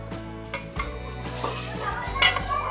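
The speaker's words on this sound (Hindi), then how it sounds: "इतना भूनेंगे अच्छे से इनका चिकन का कलर चेंज हो जाए, उस वक्त तक हम इसको भूनेंगे" Chicken fries in a pan with a moderate sizzle, broken by occasional clinks and scrapes of a spoon against metal, and a faint voice in the background.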